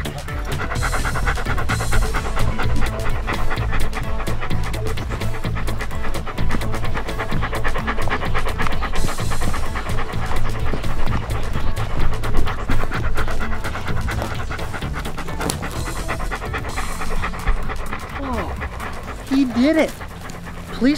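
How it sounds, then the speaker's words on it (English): A cartoon police dog pants heavily and continuously in a fast, rhythmic, breathy pattern that stays loud and close throughout. "Ooh, canine? That's another word for a dog."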